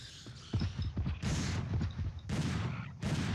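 Gunfire in the Dino Crisis 2 video game: a string of sharp repeated shots at moderate level, several bursts in quick succession with bright noisy bursts, no talking.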